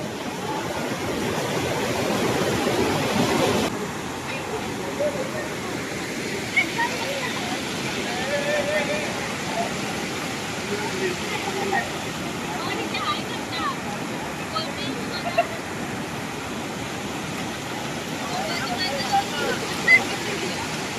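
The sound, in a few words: water flowing at Khaire waterfall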